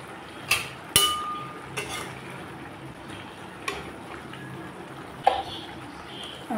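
Metal pot lid clinks a few times as it covers a pan of fish cooking outdoors, sharp isolated taps over a soft background hiss.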